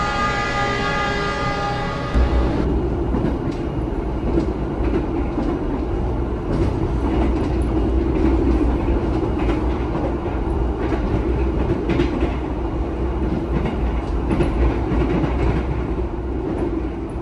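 The Gajayana train from Jakarta to Malang rumbles steadily along the rails, loud and close, with a continuous rolling roar and faint rhythmic clatter; a brief horn-like tone at the start.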